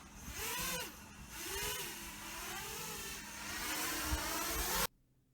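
Motors on a 6-inch FPV quad drone whine up and down in several rising and falling sweeps under steady rotor noise at moderate distance, and the sound cuts off abruptly near the end.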